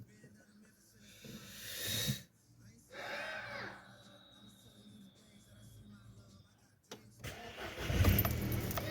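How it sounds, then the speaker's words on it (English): A Volkswagen GTI engine cranks and fires with a short starter whir, then settles into a close, rumbling idle. A few faint clicks and a brief voice come before it. "Turn the car on."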